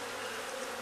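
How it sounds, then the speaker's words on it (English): Honey bees swarm around a backyard beehive, producing a faint, continuous droning buzz with a steady hiss, no voices, heard from a short distance. "Crazy bees, look at all the hive."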